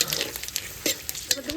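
Whole spices, namely bay leaf, dried chilli, whole garam masala and cumin, hit hot oil in a pan, giving a close, steady sizzle broken by sharp crackles and pops.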